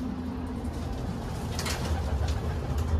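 Low, throaty pigeon cooing repeats softly through a steady background hum, with a brief rustle partway through.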